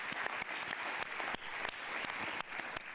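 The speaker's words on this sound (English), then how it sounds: "quick round of applause" Applause from the audience of a startup pitch event after a panel presentation, a steady patter of clapping with sharp individual claps throughout, moderately loud and without talk.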